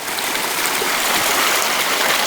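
Mountain creek water at McGee Creek in the Tulameen, a loud steady broadband rush of flowing water, close and constant with no voices.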